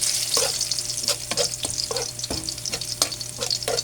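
Garlic frying in a pan until golden brown for a Filipino fish dish: a steady, close sizzle with repeated scraping stirs of the spatula, and no voices.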